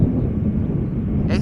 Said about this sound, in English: Right, BA, flight 430 arriving from London Heathrow.